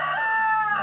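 A rooster crows in a single drawn-out, clear call, near and fairly loud, with nothing else over it.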